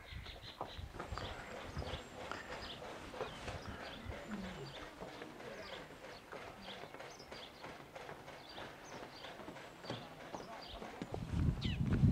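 A mare walks on a hard surface, her hooves giving a steady clip-clop that runs throughout at close range amid background outdoor noise, with a louder thump near the end.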